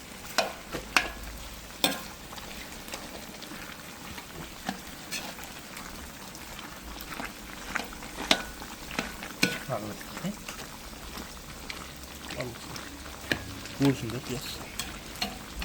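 Horse meat kuyrdak sizzles and fries steadily in a pan, with repeated scraping clatters of a utensil stirring it and brief speech over the top.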